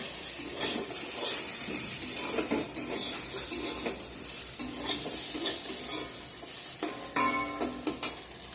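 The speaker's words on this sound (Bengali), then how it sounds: "এখন বেগুন ভাজাটা হয়ে গেছে নিম পাতা ভাজাটা হয়ে গেছে" Eggplant slices and neem leaves fry in hot oil with a continuous crackling sizzle, broken by stirring scrapes and metallic clinks of a utensil against the pan.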